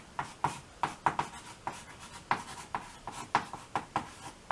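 Pen or chalk writing out a proof by induction, a quick series of sharp scratchy strokes and taps in an irregular rhythm, close and fairly quiet, with no talk.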